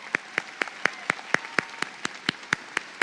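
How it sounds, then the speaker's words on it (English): Graduation ceremony audience clapping in a crisp, evenly spaced rhythm, about thirteen sharp claps over three seconds, moderately faint with no voices. "let's pause and give a round of applause for Miss Kraft."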